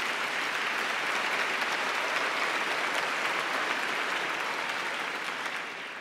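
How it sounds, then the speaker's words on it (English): Sustained audience applause at a book awards ceremony, a thick even wash of clapping heard at a moderate distance that holds steady and eases off slightly at the very end. "they deserve a big round of applause"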